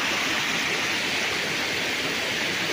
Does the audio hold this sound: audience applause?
no